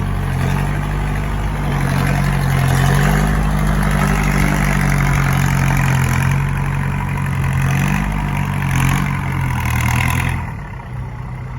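Steady, loud diesel engine of a farm tractor idling at a work site beside excavators, continuous low throb with slight rises in pitch, easing off near the end.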